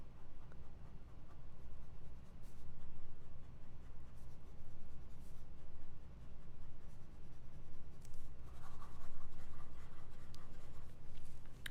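A Cleo Skribent Optima fountain pen writes fast across paper, giving a continuous close scratching and rustling with quick strokes and small ticks for about twelve seconds, with no talking.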